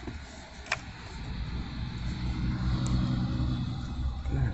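A vehicle engine runs steadily close by while a trailer is backed into position for unloading a brush pile. It holds a low rumbling idle that swells slightly as it revs, with a faint click near the start and no talk.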